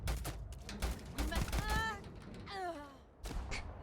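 Gunfire from a firefight in the game Starfield, a few sharp shots and bursts mixed with talking voices and other game sounds.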